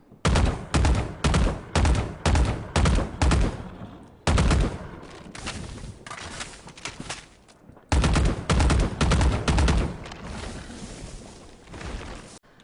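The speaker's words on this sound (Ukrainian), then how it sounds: "Давайте тепер послухаємо звуки пострілу." Rapid bursts of rifle fire from a video game, quick evenly spaced shots in volleys with brief pauses between, loud and close.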